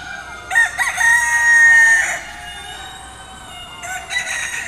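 A rooster crows at a poultry and rabbit show, a loud drawn-out cock-a-doodle-doo near the start, with other fowl calling and clucking around it in a busy hall and a second burst of crowing near the end.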